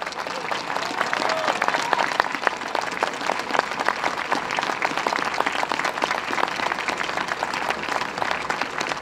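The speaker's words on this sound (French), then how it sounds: "je vous demande des applaudissements qui sont autant d'encouragement et de remerciements" A crowd at a Paris rally against putting abortion in the French Constitution, March 2024, claps steadily: dense, sustained applause from many hands throughout, with faint crowd murmur beneath.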